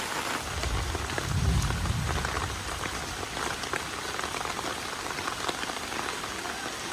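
Steady rain patters on a surface, a dense hiss of drops throughout with a brief low rumble near the start; no one speaks.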